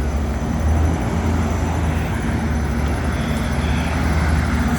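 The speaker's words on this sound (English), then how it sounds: "Here comes the other truck" A fire engine carrying water pulls up at a mobile home fire, its heavy engine giving a loud, steady low rumble that holds throughout with no voices.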